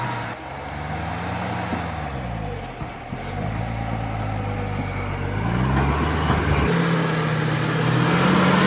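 A 1968 Ford F100 truck stuck with its wheels spinning, the engine revving up and down in repeated surges, loud and close, with a final rise in pitch.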